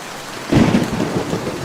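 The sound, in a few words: rain and thunder, cartoon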